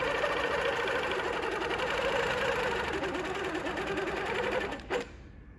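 A sewing machine stitches a quilt with a fast, steady mechanical whir and rapid needle clatter, loud and close, running without pause before stopping abruptly near the end.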